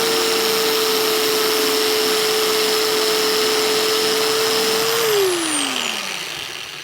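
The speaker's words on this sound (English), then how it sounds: "it is grinding the weld down pretty nice here immediately" A Bauer belt sander grinds down a weld with a loud, steady motor whine and abrasive hiss that holds for about five seconds, then the pitch drops as it spins down and fades.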